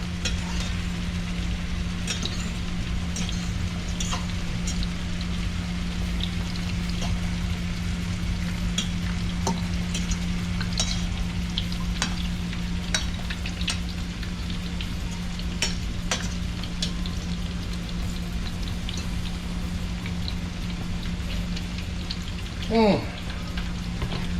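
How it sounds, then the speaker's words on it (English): Steady, crackling sizzle of food frying in a hot pan on a stove burner during Jamaican breakfast cooking, continuous and close, with a low electrical hum underneath and a brief clink near the end. "that burner still frying up, still hot"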